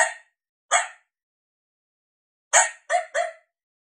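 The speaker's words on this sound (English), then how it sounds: "This is a coyote female, and it's barking yip." Female coyote giving sharp, high yipping barks, a close, dry sampled call: two single yips separated by a pause, then a quick burst of three, with silence in between.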